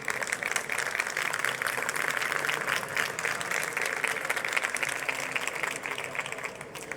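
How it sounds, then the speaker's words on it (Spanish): Steady applause from a conference audience at CyberCamp 2015 fills the whole stretch, many hands clapping together at an even level before easing slightly at the end. "Fuerte aplauso para él."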